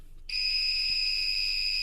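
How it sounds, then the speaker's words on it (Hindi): The buzzer on a faulty Microtek inverter circuit board starts abruptly and then holds one steady, continuous high-pitched beep that stays fairly quiet and unchanging. "जैसे ही मैंने कनेक्ट किया ये लगातार जो है बीप साउंड करने लगा"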